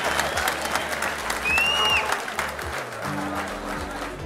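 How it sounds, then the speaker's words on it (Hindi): A crowd at a film awards show claps loudly for a comedian doing a Modi impression, with sustained, dense applause and cheering plus a brief whistle, while background music plays underneath. "अरे जोरदार तालियां मोदी जी के लिए।"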